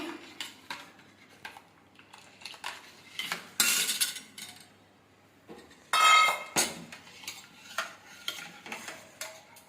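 A spoon stirs a milk mixture in a metal pot, scraping and clinking against the sides in irregular bursts, close by, with quiet pauses between strokes and no voices.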